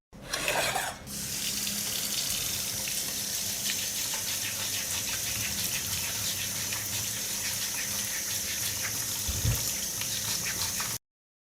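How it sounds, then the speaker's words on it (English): Cucumbers for crispy sliced pickles washed under a running tap give a continuous, close gush of water that starts abruptly and runs evenly for about ten seconds before cutting off. There is a faint thud near the end and no talking. "I will wash the cucumbers first."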